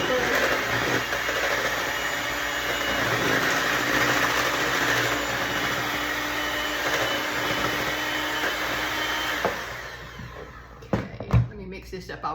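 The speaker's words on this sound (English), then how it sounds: "so I got me a mixer. So I'm gonna mix this up real good." An electric hand mixer runs steadily through a creamy cheesy beef and cabbage casserole mixture, a loud continuous whir that holds for about ten seconds before cutting off, followed by a few clunks and knocks.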